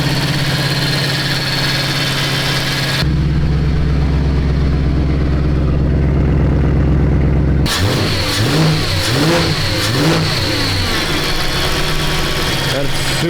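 A repaired BMW E92 M3 that had been rolled over starts up in a workshop: loud and close, it holds a steady idle, then a sustained high rev, then several sharp rising and falling revs.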